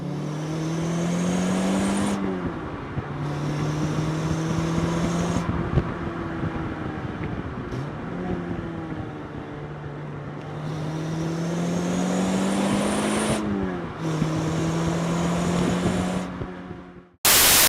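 A Renault Clio 172 drives on the road, its engine note rising and falling through several gear changes, steady and fairly loud from inside or close by, without talk.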